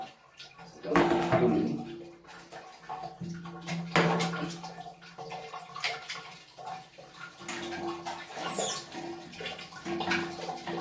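Water rushing into a toilet flush tank cistern through a ball cock valve, a close splashing, gurgling fill with surging bursts and a steady trickle, with someone talking faintly.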